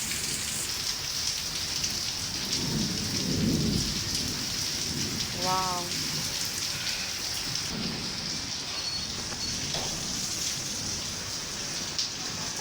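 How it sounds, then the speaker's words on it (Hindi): Heavy rain pours steadily in Karachi during a long storm, with thunder rumbling low and distant a few times beneath the constant hiss; a voice briefly exclaims. "बादलों का गरजना चेक करें।"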